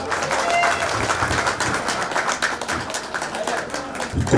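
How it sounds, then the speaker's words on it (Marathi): An audience at a Bhiwandi bus depot staff gathering claps for an honoured guest. Brisk, moderately loud applause rattles on for several seconds beside the voice of an announcer. "मोहन तरेसाठी जोरात टाळ्या होऊ द्या."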